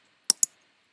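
Two quick, crisp keystrokes on a computer keyboard, close and clear, against silence.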